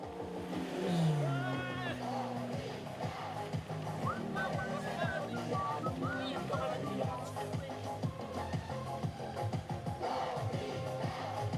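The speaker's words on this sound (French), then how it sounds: "Voiture, attention, il y a une auto qui arrive." A car approaches and passes along a road during a French live broadcast of a passing event, its engine rising and falling beneath continuous speech from people talking.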